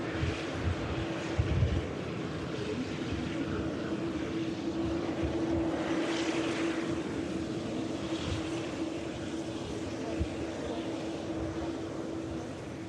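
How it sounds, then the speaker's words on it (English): Aer Lingus airliner touching down at Manchester Airport, a steady distant jet roar with broad wind-like rumble and a sustained tone, no distinct touchdown thump, continuous throughout. "Lingus touches down without an issue."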